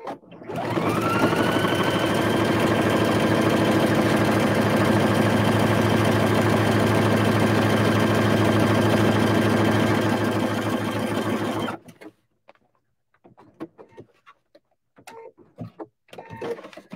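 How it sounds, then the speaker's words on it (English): A sewing machine with a circular attachment runs a slightly wider satin stitch in one steady, loud, continuous hum for about twelve seconds, then stops, leaving faint handling clicks and rustles. "I'm going to make a slightly wider satin stitch here"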